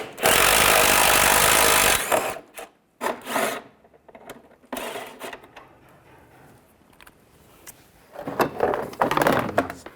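A power tool spins bolts out with a 10mm socket on a 1998-2010 Volkswagen Beetle during A/C condenser work. It gives a long loud whir, then several short bursts and scrapes, with a final rattling run.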